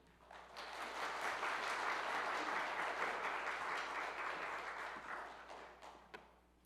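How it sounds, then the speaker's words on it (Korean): A church congregation applauds to welcome the visiting pastor, steady broad clapping swelling in quickly and holding for several seconds before tapering off, moderately distant in a large hall. "지금 나오실 때 우리 크게 박수로 환영해 주시기 바랍니다."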